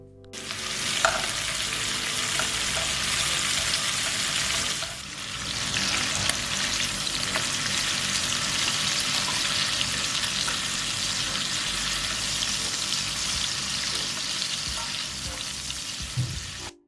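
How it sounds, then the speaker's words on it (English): Loud, steady sizzling of food frying in hot oil, a dense crackling hiss that runs continuously with a brief dip partway through, no voices. "May I present the amazing sound of frying food."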